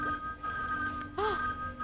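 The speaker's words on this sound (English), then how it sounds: "Suddenly, an annoying phone ringing." A telephone rings in the video game Mercury Abbey, two sharp electronic trill bursts close and clear, separated by a short gap, over a steady synth music drone.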